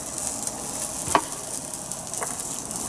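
Cut bacon sizzles in a Red Copper 5 Minute Chef cooker, giving a steady, close, even hiss broken by one or two faint clicks, with no talking.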